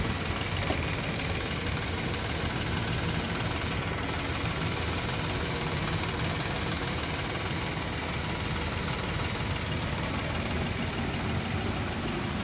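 A 2017 Nissan March with a manual gearbox idles quietly under an open hood with no engine cover, giving a low, steady mechanical hum with faint ticking that holds evenly throughout and has no talk over it.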